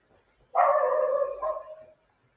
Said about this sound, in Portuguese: o cachorrinho aí.